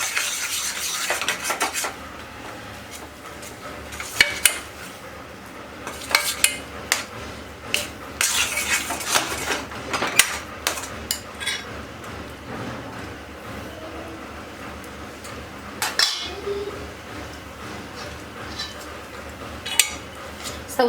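Spoon scraping and clinking against a pan while sweet potato sheera is stirred, irregular scrapes and knocks clustered in bursts, fairly close, with quieter gaps between.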